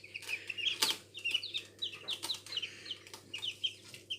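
Newly hatched chicks cheep in a series of high, quick peeps, faint and fairly close, over a low steady hum indoors, with one brief louder clatter near the start.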